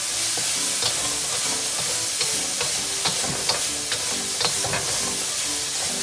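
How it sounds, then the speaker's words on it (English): Pork frying in a very hot pan, a loud constant hiss of sizzling fat with intermittent spatula scrapes and clicks as it is stirred around the sides, close up. "Again, I'm just going to stir it around a bit. Now that pork is about 3/4 done already."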